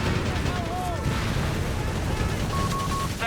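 Tank cannon fire in Company of Heroes 3, a real-time strategy battle, booms over a dense wash of combat noise with faint tonal game beeps near the end.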